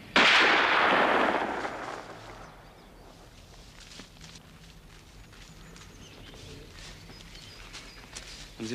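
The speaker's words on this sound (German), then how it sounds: "Schüsse hören sich von da und da genau gleich an." A distant gunshot booms once at the start and rolls away into a fading echo, followed by quiet outdoor ambience with faint footsteps.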